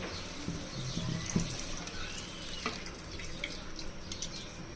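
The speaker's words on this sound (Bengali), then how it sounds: "এখন এই পর্যায়ে দিয়ে দিব ভিজিয়ে রাখা ডালগুলো।" Soaked lentils tip into a pot of partly cooked meat, giving soft wet patters, small splashes and drips, quiet and close with a few sharper clicks.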